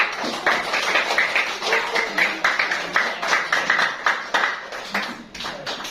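A class of students claps in a rhythmic patterned clapping game during a school guidance lesson, with many hands striking in quick bursts that fill the room steadily.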